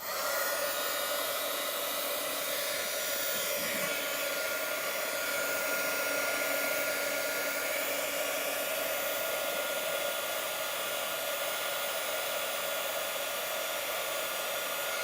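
A heat tool melting embossing powder blows a loud, steady, continuous roar close by, with a faint hum for about fifteen seconds and no talking.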